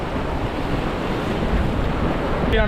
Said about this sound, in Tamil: இந்த அலைகள் எல்லாம் ஆக்ரோஷமாக தான் அடிக்குது